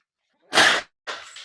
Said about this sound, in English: Did you sneeze?